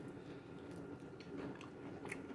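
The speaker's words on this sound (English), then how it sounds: "hear that crunch?" Biting into seasoned fried chicken gives soft, close crunches and chewing sounds, several faint crisp bites spread over a couple of seconds.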